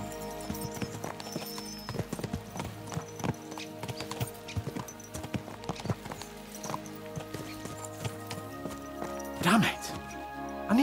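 Horses clip-clopping at a ride in the video game Kingdom Come Deliverance II, a dense, uneven run of hoof strikes with harness jingle and a brief whinny near the end, with a voice talking over it.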